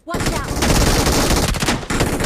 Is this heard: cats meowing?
no